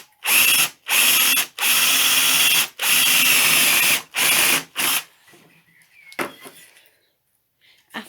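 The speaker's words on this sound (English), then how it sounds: "After I've drilled all these holes" A power drill bores a series of holes in wood for a small extendable workbench, running in several loud bursts of about a second each with short pauses between, then stopping, followed by a few faint clicks.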